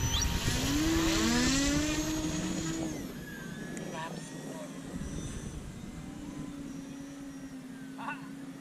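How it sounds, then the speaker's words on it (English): A radio-controlled aerobatic model plane flies overhead, its engine or motor droning in a pitch-shifting whine that swells early and then settles, heard outdoors among other flying models with voices talking nearby. "There's Jorge's aerobatic plane."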